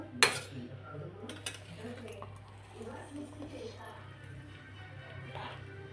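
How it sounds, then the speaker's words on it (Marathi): Cooked masala rice is stirred inside a metal pressure cooker, giving a sharp clink at the start and a few softer scrapes and knocks, all under continuous talking close to the microphone. "आता भात हलवून घेऊ आपण"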